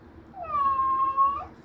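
A stray, emaciated cat with rotting surgical wounds, being treated at a vet clinic, gives one drawn-out, clear meow lasting about a second over quiet background noise.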